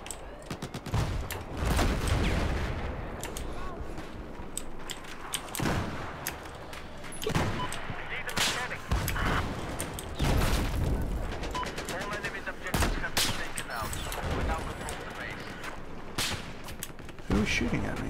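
Gunfire in the video game Battlefield 4 during a sniper recon round: repeated sharp, loud shots and bursts break up a steady din of battle, with scattered heavier bangs spread unevenly through the passage.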